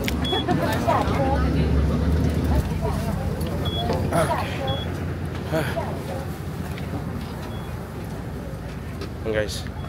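Steady road traffic with many cars moving near a bridge in Wulai, Taiwan, a continuous broadband rumble of engines and tyres throughout, with people talking over it.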